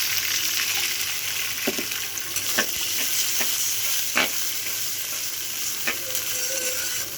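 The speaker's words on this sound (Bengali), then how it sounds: "আমার পেঁয়াজ মরিচ ভাজা হয়ে গেছে, আমি পানি দিয়ে দিলাম।" Water poured onto fried onions and chilies in a hot pan, producing a loud steady sizzle and hiss with occasional scraping stirs of a spatula, and no voices.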